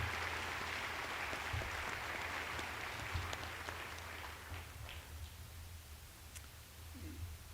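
An audience at a Santa Fe-area college's fall 2024 commencement ceremony claps in a sustained, even wash of applause that sounds distant and soft and tapers slightly toward the end.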